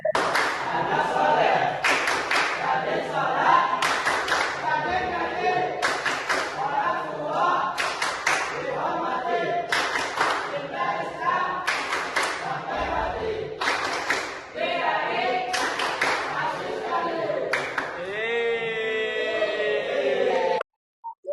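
Children chant a rhythmic Islamic clapping chant in Indonesian in unison while clapping in a steady rhythm, loud and close, with bursts of claps punctuating the group voices.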